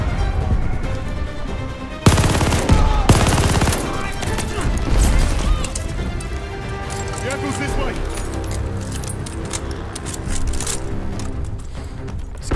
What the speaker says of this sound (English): Got an MG42 for a reason.